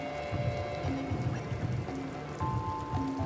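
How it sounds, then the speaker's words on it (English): Steady rain in the video game Spider: Rite of the Shrouded Moon, an even patter of drops on surfaces under a faint, sustained musical drone, with no voices and a constant level throughout. "We do still have rainy conditions and evening conditions."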